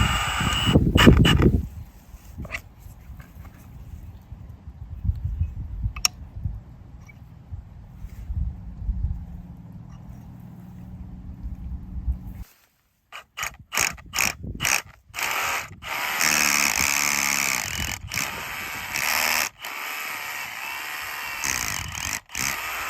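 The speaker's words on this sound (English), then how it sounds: "So we're gonna do all the drilling with a hammer drill and see how it goes" Hammer drill fitted with a masonry bit boring into rock on an off-grid homestead, a loud mechanical rattling grind that runs continuously, stops briefly, then resumes in choppy bursts with clanking handling noises.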